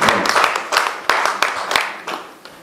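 Applause from the audience at a press conference ahead of a concert: a small group clapping close by in uneven bursts, sharp individual claps standing out as the sound gradually tapers off.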